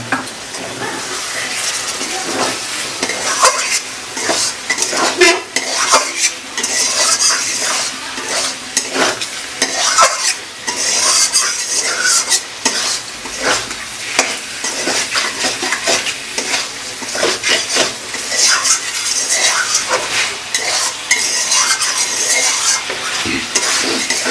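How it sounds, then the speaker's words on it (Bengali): Pork meat frying in mustard oil and being stirred in a pan, a dense sizzle broken by repeated scraping and clinking of a utensil against metal, loud and close, with no talking. "খুব সুন্দর এখানটা কষে আসছে মাংসটা আর ধুমো খুব সুন্দর উঠছে এখানটা ধোয়া"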